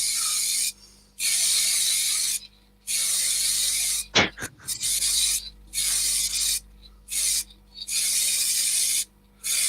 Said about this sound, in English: Obviously it's a spray-on one, because you can see me spraying it on.